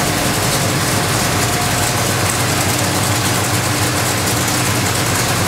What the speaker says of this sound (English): Tim Britton, 496 Chevy